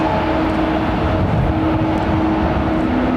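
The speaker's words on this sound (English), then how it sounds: "Listen to the engines whining away" A Boeing 777-200 jet taxiing at London Heathrow Airport, its engines holding a loud, steady roar with a faint whining tone running throughout.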